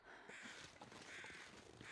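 Harsh crow caws sound in quick succession in The Long Dark, a survival video game set in frozen wilderness, carried over a constant breezy background with no voices.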